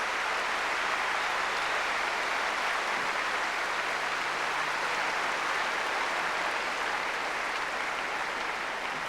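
A large tennis crowd gives a long, sustained ovation to a young West German teenage player after a 1988 Australian Open women's match, with dense applause holding steady throughout.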